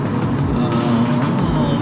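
Steady hum of road traffic while driving along a highway toward Mount Holly, a continuous close engine and tire rumble with vehicles passing, no talk.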